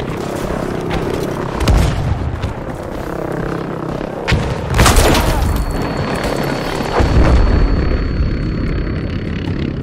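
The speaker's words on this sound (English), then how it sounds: "Objective Dora destroyed!" Explosions destroying an objective in a video game, a heavy boom swelling over a dense rumbling battle din with further blasts and a thin steady tone, loud throughout.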